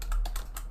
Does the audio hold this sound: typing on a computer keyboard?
yes